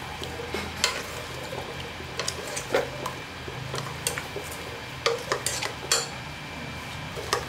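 Cauliflower and potato pieces being sautéed in a pan for kurma: a soft sizzle under repeated metallic scrapes and clinks of a spoon against the pan, close up and without talk.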